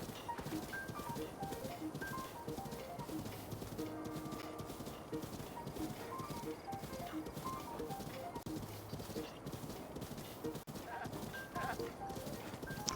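Hooves clip-clop steadily as a horse is ridden across a hillside in a video game, an even trotting rhythm at moderate volume running the whole time beneath a continuous wash of ambient game sound.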